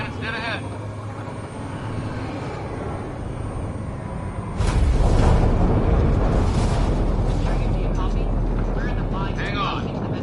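A spaceship makes atmospheric entry in Mass Effect: Andromeda: a continuous roar that swells into a heavier, louder rumble partway through, with voices talking over it.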